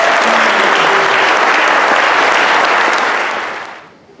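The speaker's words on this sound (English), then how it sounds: "How about a nice round of applause for Mr." A crowd at a jazz piano showcase gives pianist Jim Barnett a loud, sustained round of applause with dense clapping that holds steady for several seconds before fading out.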